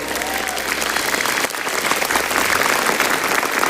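Audience applause fills a stand-up comedy show, a dense steady clapping from a full crowd that stays loud throughout, with cheering mixed in and no clear speech.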